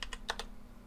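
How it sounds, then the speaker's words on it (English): Several quick keystrokes on a computer keyboard, close and crisp, clustered in the first half-second, then fading to quiet room tone. "I didn't mean to type it in all caps."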